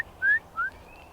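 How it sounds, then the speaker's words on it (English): Two short rising whistles close together, then a fainter, longer whistle, heard against a quiet outdoor background that seems to sit at ground level. "That whistle's coming from, it sounds like it's coming from ground level."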